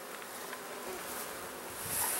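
Honey bees buzzing around an opened nuc hive, a dense continuous hum close by with no voices.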